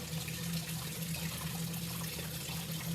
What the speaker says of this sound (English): use our cold distilled water to rinse this out